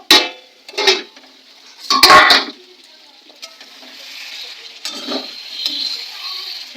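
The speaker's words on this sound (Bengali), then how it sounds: "মাংস ঢাকাটা খুলে একটু নাড়াচাড়া করে নেবো" A metal pot lid lifted and mutton curry stirred in a home kitchen, heard as a few clinks and scrapes of utensils against the pot among quieter rustling, close by.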